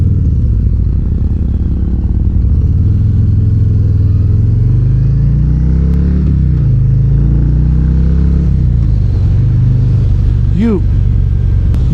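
A 2025 Harley-Davidson Breakout chopper cruiser rumbles loud and close while being ridden, its engine note rising and falling through gear changes amid wind noise, with a rider talking over it.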